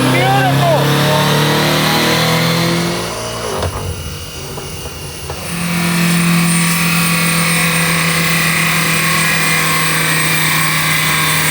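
A 2012 BMW M5 F10 strapped to a chassis dyno drones loudly in gear, its steady engine note dipping briefly mid-run before swelling back into a sustained high-load roar, with a voice talking over it.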